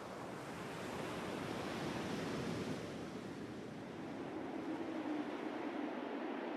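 Ocean waves breaking on a wild, open beach make a continuous broad roar of surf with wind mixed in, steady and fairly even throughout, with no voices.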